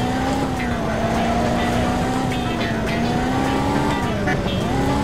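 A car engine in the Driver 2 video game drones loudly and continuously, its pitch gently wavering and dipping as the vehicle speeds through winding turns.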